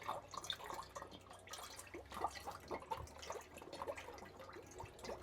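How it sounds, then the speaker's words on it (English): Juice is poured into a strawberry and lime cider mixture, giving faint, irregular liquid splashes and drips at close range. "So I'll just pour that straight in there."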